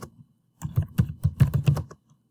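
Keys clack on a computer keyboard while a project title is typed into a basic coding lab form, a quick burst of a dozen or so close, crisp strokes with short pauses at the start and end.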